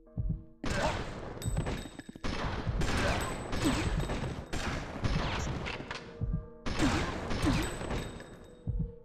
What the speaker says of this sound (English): That shotgun's good